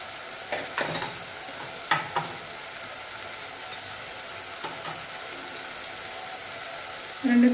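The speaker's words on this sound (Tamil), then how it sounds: "இதெல்லாம் சேர்த்து நல்லா வதக்கிடலாம்." Mutton masala with salt and chili powder frying in a pan for mutton gravy, a steady sizzle broken by a few sharp spoon scrapes and stirring clatters, ending with a short tone.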